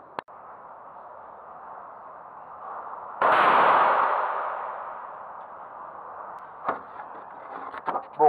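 A single sharp gunshot strikes a car windshield. There is a sudden loud crack with a ringing decay, over a steady hum, followed by a few faint clicks and knocks.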